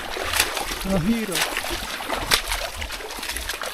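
A boat is paddled through shallow, nearly dry water along the edge of a lake in rural fields. A few soft splashes and trickles come through beneath a man's close, steady talking.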